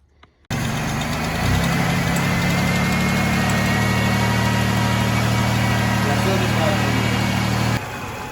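A Stage 3 Chevrolet Impala SS engine idles steadily and loudly up close after it starts abruptly, with a deep, even rumble and a slight knock. A voice speaks over it.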